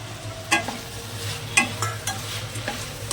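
Tomatoes stirred into spices frying in a pan for Gujarati khichdi, giving a steady close sizzle with a few louder scraping and stirring knocks spaced through it, no talking.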